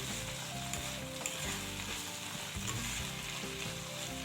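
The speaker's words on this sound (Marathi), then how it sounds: "त्याला थोडंसं परतून घेऊया" A wild vegetable dish with coriander sautés in a pan, a steady close sizzle with repeated stirring scrapes and clicks of a spoon against the pan, no talking.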